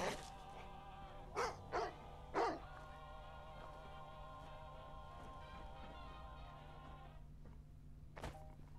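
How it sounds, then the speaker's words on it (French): A dog barking in the video game Fallout: London, with about four short barks near the start and one more later, heard over steady game ambience and a low mechanical hum. "Où tu es le chien?"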